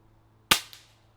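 A single air rifle shot at a hunter field target competition: one sharp crack followed by a quick decaying ring and a faint second tap just after, fairly close, in otherwise quiet outdoor surroundings.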